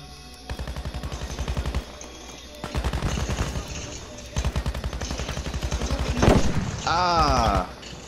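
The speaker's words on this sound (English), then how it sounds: "He's on the machine gun." Bursts of rapid machine-gun fire in the Battlefield V video game, several sustained strings of closely spaced shots, loud and near, with a sharp blast and a brief wavering tone near the end.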